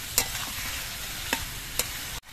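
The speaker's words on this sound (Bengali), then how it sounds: "মশলা দিয়ে আলু দিয়ে ঝিঙে দিয়ে আরো কিছুক্ষণ কষিয়ে নিতে হবে।" Potatoes and ridge gourd are sautéed with spices in a pan, a soft continuous sizzle broken by a few sharp scraping stirs of the spoon.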